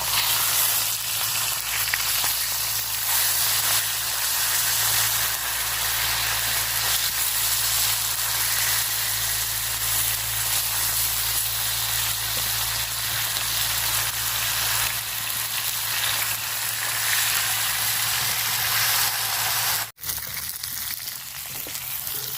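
River bata fish frying in hot oil, a steady, dense sizzle and crackle that holds evenly close by for the whole stretch, broken only by a brief dip near the end.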